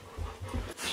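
A dog pants in quick, breathy bursts close by, short and fairly loud, with no talking over it.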